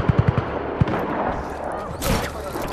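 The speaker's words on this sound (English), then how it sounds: "Who's firing bullets?" Gunfire in Just Cause 3, a quick burst of four sharp shots followed by a single louder shot, then a rumbling blast amid ongoing game noise.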